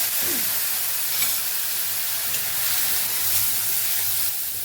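Tomatoes frying in hot oil with mustard seeds and asafoetida, a soft, even sizzle and hiss that holds steady throughout with faint stirring beneath.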